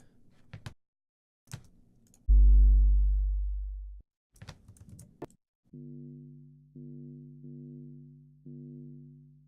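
A distorted sub-bass sweetener send signal, high- and low-passed, plays as a heavy sustained tone followed by repeated shorter pulses, with isolated clicks and brief noisy bursts between notes.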